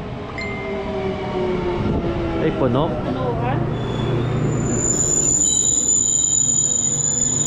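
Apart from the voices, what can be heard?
Japanese train slowing down and stopping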